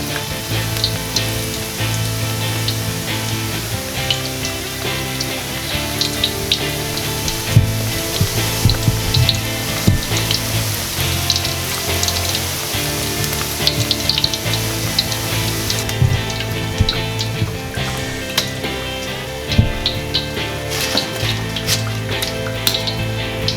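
Battered food frying in a hot pan, with a steady dense sizzle and crackle running throughout at close range, loud and continuous with small pops and stirring scrapes.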